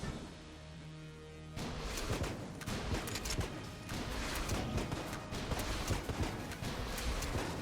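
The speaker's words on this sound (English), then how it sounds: "The Stinger is currently firing 2 guns at the same time" Two guns fire at once in the bullet-hell dungeon crawler Enter the Gungeon, a dense, steady stream of rapid shots and impacts over continuous game music and effects.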